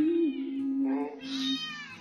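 A kitten, apparently at a veterinary clinic, gives one long, drawn-out meow that is close and clear, ending in a softer upward cry.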